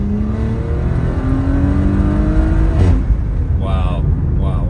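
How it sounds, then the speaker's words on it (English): An upgraded-turbo Audi SQ5 accelerates hard, its engine note climbing steadily with rising harmonics and a turbo whoosh spooling up over about three seconds. The sound is loud and close, as heard from inside the car. "the turbo spool alone over the stock turbo is insane"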